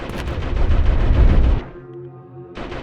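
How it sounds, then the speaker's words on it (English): Artillery shelling in the trench-war video game Conscript: a dense, loud rumble of booms and blasts for about a second and a half, then it drops away to a low hum before another burst starts. "Sounds like we're getting shelled again."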